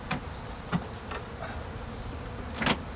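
Honeybees buzzing around an opened hive during an inspection, a faint steady drone broken by a few sharp close passes and knocks.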